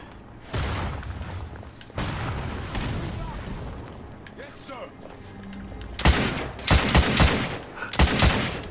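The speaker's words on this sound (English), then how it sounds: "Wow, this gun is awesome." Heavy gunfire from the video game The Order: 1886, with loud sustained bursts and booming rapid volleys toward the end, close and dense with little break between them.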